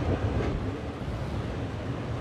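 An electric locomotive train rolling past at Ambala Junction in Train Sim India, a loud continuous low rumble of wheels and carriages filling the whole stretch, without speech.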